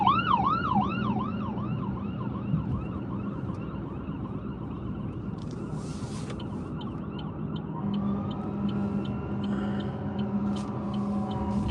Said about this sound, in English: There's no way that's the ambulance that's coming to this specific scene.